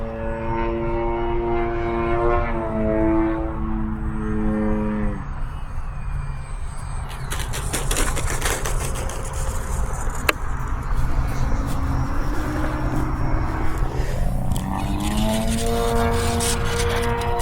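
A UMX Waco RC biplane on a 3S battery comes in to land in calm air, its electric motor whining steadily and shifting pitch as the throttle changes, with loud wind-buffeted noise throughout.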